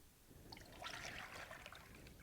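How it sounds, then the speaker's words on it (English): Heavy cream poured from a container into a pot of milk while making ricotta, a soft liquid trickle and splash running steadily for about two seconds, close and fairly quiet, with no talking. "You just add in the heavy cream to reach 7 cups. Okay. All right, you're just gonna pour it right in."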